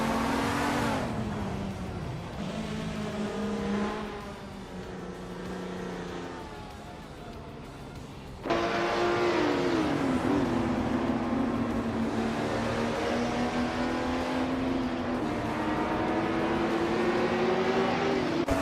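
Group 5 race cars, including a Porsche 935/78, howl through a racing video game. Engine notes rise and fall as they change gear, and a sharp cut partway through brings in a louder, higher whine of another car close behind.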